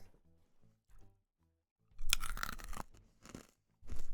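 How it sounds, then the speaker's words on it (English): Corn nuts are crunched and chewed right up against a microphone, with a few quiet mouth sounds and then loud, close, crackling bursts of crunching. "as I crunch in the mic, it's AMSR. Crunching, chewing."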